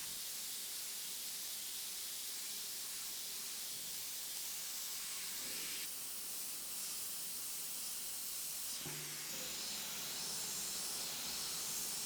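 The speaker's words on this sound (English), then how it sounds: "I'm just creating all the effects in this area with the airbrush alone." An airbrush sprays Createx black paint in a soft, continuous hiss that stays faint and even throughout, with slight shifts in tone.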